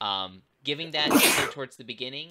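Single loud sneeze bursting out between stretches of talk during a Dune tabletop RPG discussion, close and abrupt.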